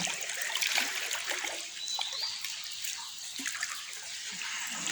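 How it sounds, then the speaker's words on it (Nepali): River water flowing over and around stones, a steady broadband rush and trickle that stays close and fairly even throughout, with no voices. "अब यो पानीले मलाई चाहिँ यहाँ चाल्न देखाएन, बगाएर तलतिर पुर्याउन लागिसक्यो।"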